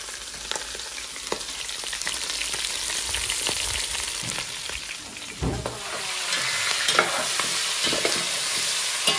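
Onions fry and sizzle in a pan, a continuous crackling hiss broken by occasional stirring scrapes, loud and close with no talking.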